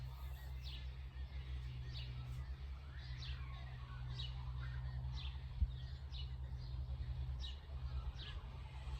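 Birds chirp and sing outdoors in short, repeated high calls scattered across the stretch, fairly faint over a steady low hum.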